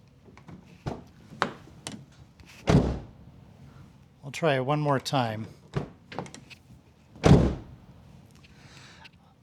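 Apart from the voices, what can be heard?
Mazda 3 car door closing with hollow thud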